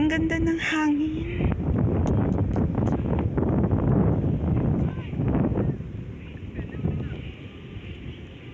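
Wind gusting across a beach at low tide, a steady broadband rush with rumbling buffets on the microphone, strongest in the middle and easing toward the end, with a voice talking briefly at the start.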